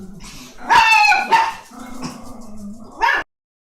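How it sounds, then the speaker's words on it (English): Small dogs bark repeatedly and close by in a home, in loud bursts with yips and brief whimpering between them, then one final sharp bark. "I had to deal with my little doggies that are barking away."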